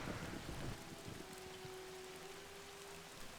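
A freezing rain spell in the strategy game Battle for Middle-earth (BFME1) hisses as a dense, steady wash of falling rain, with a louder burst at the start and a faint tonal hum running beneath.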